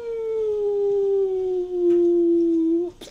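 A human voice imitates a cartoony falling sound effect, a single sustained descending tone that slides slowly downward for nearly three seconds before breaking off.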